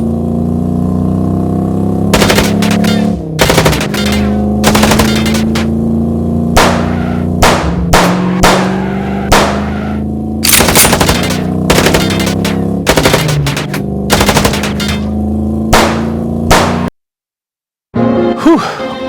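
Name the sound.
gunfire shooting in video game Chicken Police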